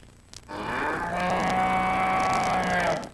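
A cow moos once in a long, loud, sustained low call that swells and fades over about two and a half seconds, standing alone in a short broadcast sponsor spot.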